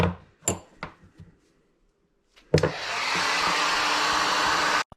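A heat gun blasts a steady broadband roar, warming a crankshaft bearing on a Peugeot 103 moped. A few scattered clanks of tools come first, and after a short pause the roar runs loud and continuous for a couple of seconds before it stops abruptly.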